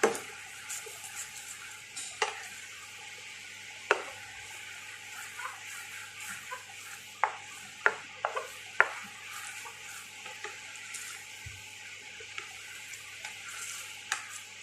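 Garlic sauce for fried chicken simmering in a pan, a soft steady bubbling hiss broken by sharp clinks and scrapes of a utensil stirring at irregular intervals.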